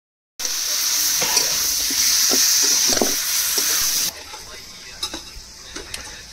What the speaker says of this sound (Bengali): চিকেনটা ভালো করে কষানো হবে